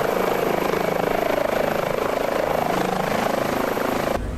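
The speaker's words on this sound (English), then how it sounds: "We're going to bring the aircraft up and just enter into an in-ground effect hover while we make sure the engines are performing correctly" An H145 helicopter in MSFS hovers with rotor and twin engines running, a loud continuous whirring drone with a steady beating pulse, close and uninterrupted until a brief drop at the end.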